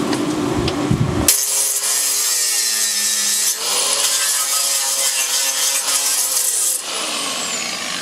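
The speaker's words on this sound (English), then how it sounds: "I'll just tidy up the outside with a sanding disc." A sanding disc grinds across a steel weld on a Land Rover chassis, giving a loud, continuous abrasive whine with slight pitch shifts as the disc is worked along the metal.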